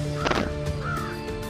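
A crow caws in an animated retelling of the folk tale Keong Mas: a harsh, brief call near the start, then a thinner drawn-out cry over a steady background tone.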